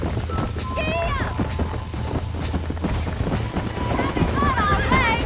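A horse gallops in the video game Red Dead Redemption with steady rhythmic hoofbeats, mixed with game music and whistling tones, while a voice talks over it.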